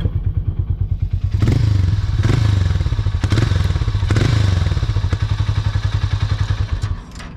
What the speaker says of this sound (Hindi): मैं आपको अभी एग्जॉस्ट में सुनाता हूँ।